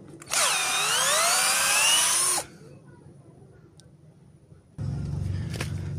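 An Asteel 21V cordless drill drills with a loud, high whine that rises and falls for about two seconds, then goes quiet before a rougher, lower burst of motor noise.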